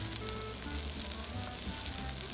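Vegetables stir-fry over medium heat in a pan for a Chinese-style rice bowl topping, giving a continuous close sizzle with dense, crackling pops throughout.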